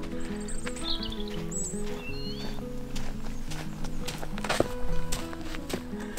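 Cows walk along a hiking trail on Sao Miguel Island in the Azores, their hooves thudding in steady irregular steps close by, with faint bird chirps and low rustling through the background.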